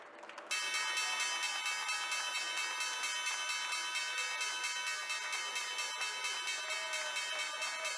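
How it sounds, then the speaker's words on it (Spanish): The opening bell rings at the Wall Street stock exchange for a Chilean Coca-Cola bottler's 80th anniversary, a loud continuous metallic clanging that starts abruptly and rings steadily for several seconds over crowd noise. "vamos con el toque de campana en Wall Street"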